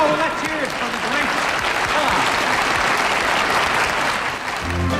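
A television studio audience applauds at a variety show, thick sustained clapping mixed with a brassy band playing underneath, the whole roar staying loud and continuous across the clip.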